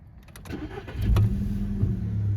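A Volkswagen Golf Plus with a 1.6 petrol engine cranks briefly, then fires and settles into a steady, close idle, with no talk over it.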